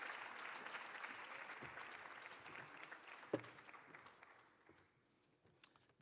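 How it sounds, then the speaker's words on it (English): Applause from an audience at a social justice session, a steady dense wash of clapping that thins out and fades toward the end, with a few scattered last claps. "Keep clapping, everybody."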